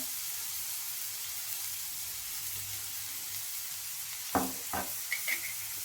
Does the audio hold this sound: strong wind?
no